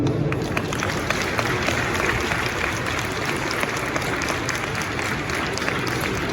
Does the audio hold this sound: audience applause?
yes